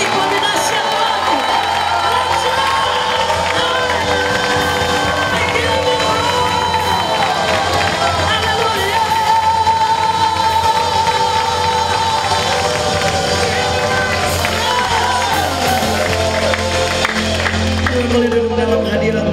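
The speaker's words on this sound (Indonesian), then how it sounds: "Yang percaya boleh beri tepuk tangan yang terbaik." A church congregation claps and cheers loudly and continuously, a dense wash of applause, shouts and whoops with voices calling out throughout.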